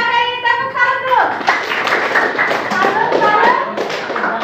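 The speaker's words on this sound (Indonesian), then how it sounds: "Ya, kita beri tepuk tangan dulu" A school class of ninth-grade students breaks into brief, lively clapping after a teacher's voice, the applause sharp and close with some voices mixed in.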